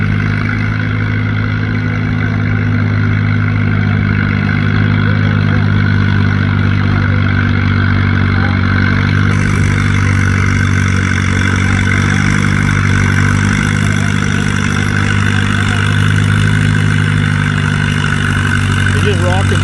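An antique tractor engine runs steadily at a tractor pull, a loud continuous throaty drone with a low rumble that holds near and constant throughout.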